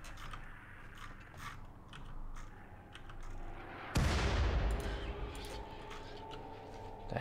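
A sudden loud boom from an indirect-fire weapon in the colony game Rimworld, hitting hard and then fading into a long, noisy decay over steady background game sound.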